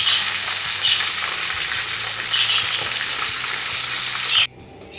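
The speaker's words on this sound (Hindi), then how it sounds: "बहुत ज्यादा फ्राई नहीं करना है कि सख्त हो जाए, कि जूसी बोटियां रहें तो हमें निकाल लेना है।" Chicken pieces frying in hot oil for a fried chicken dish: a loud, steady sizzle with occasional stirring clinks, cutting off abruptly near the end.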